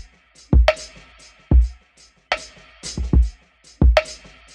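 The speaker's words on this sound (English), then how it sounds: "Here's the drum loop." A slowed drum loop in a sampled track made in Ableton plays alone: punchy low kicks and bright, snappy strikes land in a steady, loose rhythm, about five hits in under five seconds.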